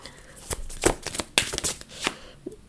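Message cards being shuffled by hand, a run of crisp riffling bursts and soft slaps at uneven intervals, close and fairly loud with no talking.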